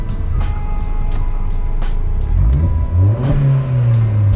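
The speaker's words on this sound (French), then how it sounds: "Le petit son de la voiture aussi. Avec les petits retours qu'elle fait" An Opel Corsa engine revs up close, its pitch climbing and swelling over steady idle rumble, with a few sharp ticks before the rise.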